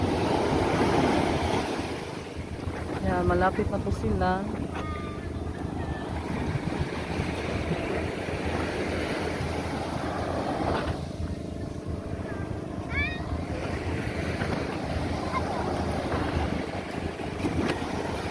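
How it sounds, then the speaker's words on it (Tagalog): Sea waves washing and rushing steadily along a beach in Zambales, Philippines, with gusty wind noise, while a voice speaks briefly in the middle. "Mabot na yung dagat."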